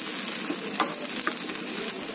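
Sauce being stirred into vegetables sizzling in a hot pan for bread Manchurian, a steady close frying hiss with a few soft scraping stir strokes and no talking.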